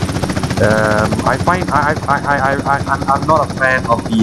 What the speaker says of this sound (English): That means we're gonna have to take the chopper, no choice.